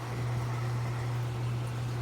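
Aquaponics pumps run in a steady, continuous hum with a strong low drone and a broad hiss over it, unbroken and fairly loud for the whole stretch, with no voices.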